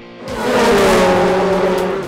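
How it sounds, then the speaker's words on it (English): A Red Bull Global Rallycross race car at the Port of Los Angeles roars past close by, engine note rising and holding with tire noise before easing off, alone without talk. "The fast cars of the Red Bull Global Rallycross Series were in town."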